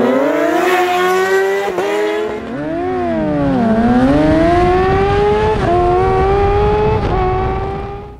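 A motorcycle ridden by a beginner working on clutch control: a loud, close engine note that revs up and down, dipping and rising in pitch over several seconds, with no talking.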